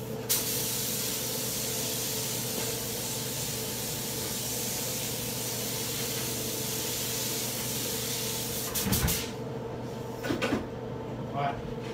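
Spray paint hisses steadily from a can onto a 90mm artillery shell in a continuous close spray, stopping near the end, followed by a few short clattering knocks as someone talks.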